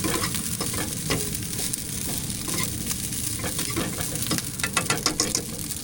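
Takeaway sauce heats in a pan, giving a steady close sizzle and bubbling with scraping and stirring clinks scattered throughout.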